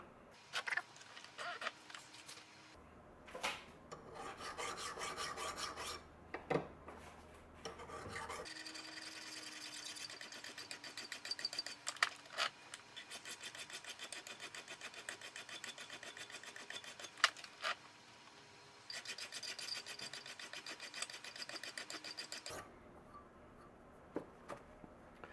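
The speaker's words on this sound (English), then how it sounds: "Now we're going to do some hand filing." A steel awl point is hand filed in quick bursts of close, dry rasping strokes, with short pauses between passes and a faint low hum beneath.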